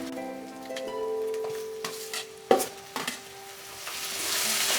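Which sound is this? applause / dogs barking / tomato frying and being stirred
tomato frying and being stirred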